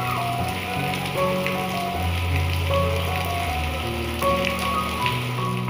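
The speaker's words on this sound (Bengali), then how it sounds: "যাওয়ার পথে দেখি ঝুম বৃষ্টি" Heavy rain pours steadily and loudly onto surfaces nearby, a dense continuous patter of drops with no voices.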